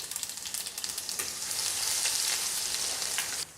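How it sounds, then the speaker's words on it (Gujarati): Crushed garlic crackles and sizzles in hot oil with cumin and mustard seeds, a close, bright frying hiss with quick spitting pops that swells into a steady sizzle before cutting off. "લસણ એકદમ સરસ કકડી ગયું છે"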